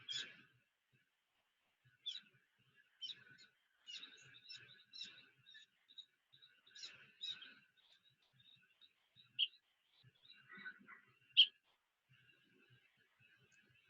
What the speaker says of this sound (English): A buff-throated saltator.